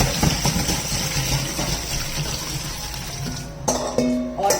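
Freshly washed lemons tumble from a water-filled bowl into a metal rice strainer, a wet sloshing pour ending in a few sharp clinks and knocks as the fruit settles, close and fairly loud.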